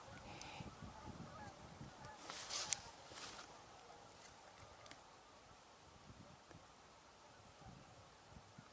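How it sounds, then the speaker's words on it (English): Snow geese at an airport give a few faint, distant honks over quiet outdoor background noise, with one slightly louder call partway through. "I did see some snow geese"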